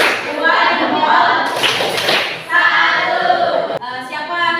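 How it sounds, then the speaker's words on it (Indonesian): Classroom pupils clap together in a rhythmic patterned cheer, bursts of hand claps alternating with chanting voices, ending in a sharp clap before talk resumes. "Kita beri tepuk salut. Tepuk tangan"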